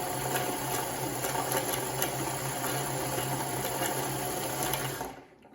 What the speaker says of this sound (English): As soon as it catches, I can trim that thread, and it just winds automatically.